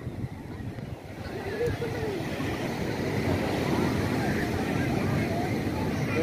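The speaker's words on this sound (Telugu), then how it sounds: "చూడ అలలు చూడ ఎట్లా వస్తున్నాయో" A steady, broad roar of surf washing onto a beach in Visakhapatnam, India, with wind noise and faint voices mixed in.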